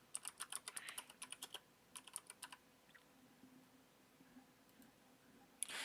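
Computer keyboard keys clack in quick bursts, a run of rapid taps, a pause, another short flurry, then sparse faint clicks, close and quiet with no talking.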